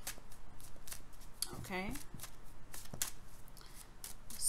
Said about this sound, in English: Just give me a little bit to shuffle the cards for next week here